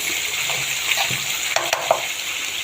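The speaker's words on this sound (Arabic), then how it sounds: "معكم التقليه بتاعت السمكه اهي ماشي، خدت لون حلو خالص." Fish fries in hot oil with a loud, continuous hiss, punctuated by a few sharp crackles and pops.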